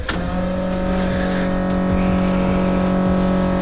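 V8 engine of a Chevrolet S10 set up with nitrous idling steadily up close, a loud continuous drone with a strong tonal hum and no talk.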